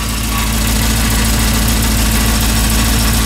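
An LS-swapped Humvee drives downhill with a Holley Sniper fuel-injection kit fitted, its engine giving a loud, steady low drone throughout with no talk.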